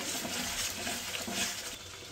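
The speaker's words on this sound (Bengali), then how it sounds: "মশলাটা ভালো করে কষিয়ে নেব।" Spice paste with Kashmiri red chilli and a little salt fries in a pan for aloo dum, giving a steady, moderately loud sizzle with soft stirring scrapes throughout.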